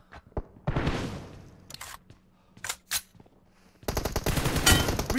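Gunfire in the mobile game PUBG Mobile: scattered single shots and short bursts give way to a sustained rapid automatic volley, loud and close, with brief quiet gaps between shots.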